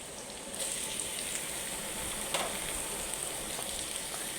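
Chopped ivy gourd sizzles with onions in a hot pan, a soft, steady frying hiss with faint crackles and a brief stir partway through.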